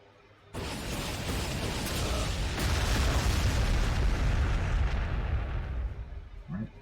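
Missiles launch and detonate in the Warhammer 40,000: Sanctus Reach strategy game: an abrupt onset swells into a loud, sustained rumble of booming explosions that holds for several seconds before thinning out.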